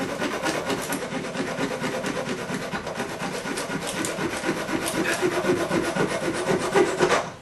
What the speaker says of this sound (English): you can cut these off with a saw, hacksaw. Just be careful and go slow.